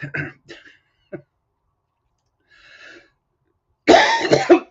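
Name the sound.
coughing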